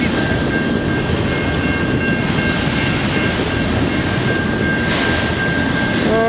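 Freight train hauling auto racks rolls past in the evening at a Montreal rail line, a steady, loud, continuous rumble of wheels and cars with a faint tonal whine running throughout and no talk.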